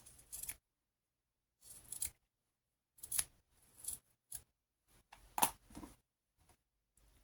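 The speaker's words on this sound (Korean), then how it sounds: "이렇게 가지런히 해주셔서 한 1cm 정도 남기고 잘라주세요." Scissors snip cord ends on a crochet mochila shoulder strap, giving a series of separate crisp, close cuts with quiet gaps between them and no talk.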